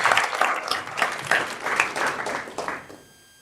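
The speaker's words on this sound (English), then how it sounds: "So let's clap for all of us for taking the energy and courage." Audience clapping at a national economics summit, a short burst of applause lasting about three seconds before fading into quiet.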